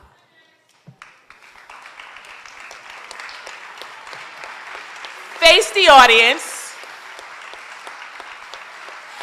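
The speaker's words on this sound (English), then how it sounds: "And everybody, please give them a round of applause" An audience at a 2025 WDCE completion ceremony applauds its graduating finishers: sustained, even clapping from a crowd that swells briefly while a voice speaks over it, then carries on steadily.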